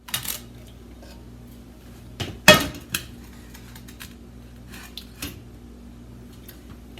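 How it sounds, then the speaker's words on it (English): A cooking pan is taken out and handled in a kitchen, giving scattered close metallic clanks and knocks, one louder bang near the middle, and quieter rattles between them. "Get out a pan."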